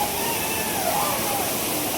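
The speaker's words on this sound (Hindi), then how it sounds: "प्यारा झरना" Steady rushing water from a waterfall near the Jatmai temple in Gariyaband roars continuously and evenly throughout with no pauses.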